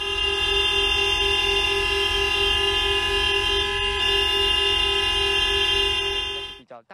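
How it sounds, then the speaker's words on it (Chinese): A steady chorus of vehicle horns blares continuously at an air crash search site during a three-minute mourning tribute, loud and sustained, cutting off abruptly near the end. "现场车辆亦都鸣笛。"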